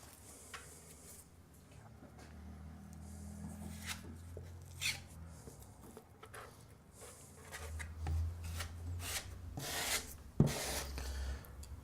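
Tradeset plaster filler spread into a hole in a plasterboard wall with a filling knife, soft close scraping and rubbing strokes, intermittent and quiet, with a few sharper scrapes and a light knock toward the end.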